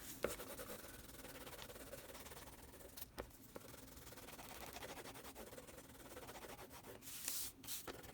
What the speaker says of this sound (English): Rub, rub, rub again.